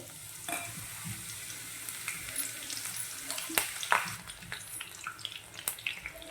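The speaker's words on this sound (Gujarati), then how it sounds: "લીલું મરચું નાખી દઈશું લીલા મરચાં નાખી દઈશું જે ઝીણા ઝીણા સમાર્યા હશે તે નાખી દેવાના છે" Finely chopped green chillies hit hot oil for a Gujarati chora curry, giving a continuous bright sizzle broken by several sharp spoon clinks and scrapes against the pan, close-up, with no speech.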